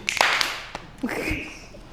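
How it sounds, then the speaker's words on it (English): Fingers snap and hands clap in a few sharp, close strikes scattered over a couple of seconds, with voices and a whoop in the background. "Snap and clap your sheet."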